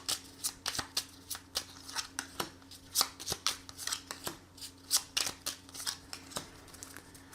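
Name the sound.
tarot cards being shuffled and drawn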